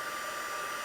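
Electric embossing heat tool blowing hot air over embossing powder, a steady close whirring hum with a constant airy hiss and no breaks.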